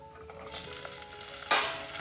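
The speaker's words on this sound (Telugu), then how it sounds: "ఇప్పుడు పచ్చిమిర్చి వేస్తున్నాను." Green chillies drop into hot oil with popped mustard and cumin seeds for an ivy gourd onion masala, and the sizzle swells to a bright hiss with a sharp burst midway; close, no speech.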